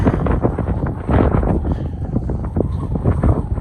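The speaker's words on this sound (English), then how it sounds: "The wind today's something awful, I'll tell you" Strong gusty wind buffets the microphone on an open country clifftop, a loud roaring rumble that surges and eases in uneven gusts throughout.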